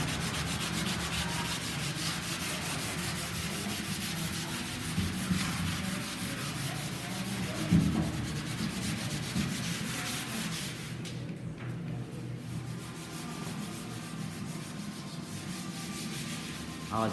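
Someone scrubs 1939 Packard V12 fenders, stripped to bare metal, with lacquer in a paint room. The rubbing is continuous and scratchy, with a steady back-and-forth texture, and no one talks.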